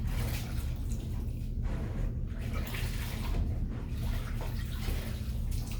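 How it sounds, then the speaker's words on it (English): Water being splashed and scrubbed around the inside and outside of a tub, a continuous close wash of sloshing and rubbing with no clear breaks and no talking. "Clean the inside and the outside, each part of the tub."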